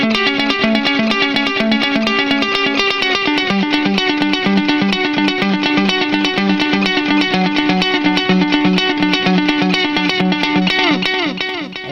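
A dense, distorted instrumental passage runs with a delay effect being tuned by ear, repeating echoes smearing each note into a loud, continuous wash for about twelve seconds before a slight dip at the end.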